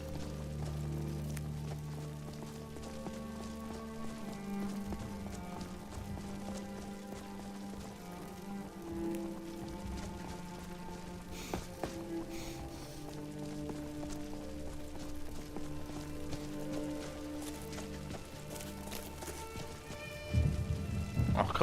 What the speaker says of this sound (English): Is it always raining here?